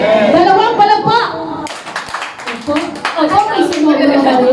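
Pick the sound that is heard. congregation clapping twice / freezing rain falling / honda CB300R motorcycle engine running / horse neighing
congregation clapping twice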